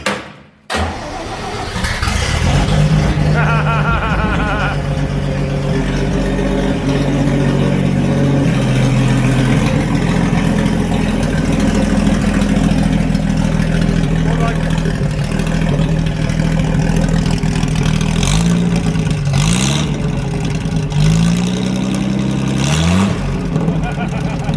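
An REO truck engine fires up after carburetor repairs and keeps running steadily, a loud, close low rumble with occasional revs rising and falling near the end.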